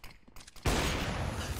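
Counter-Strike gunfire erupts after a quieter moment: a sudden loud burst of rapid shots that continues densely to the end, close and harsh.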